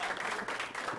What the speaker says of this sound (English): Let's give an applause to you guys.